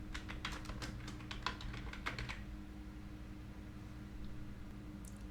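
Close, crisp keystrokes on a computer keyboard in a quick run of clicks lasting about two seconds, followed by a low steady hum of room noise with no talking.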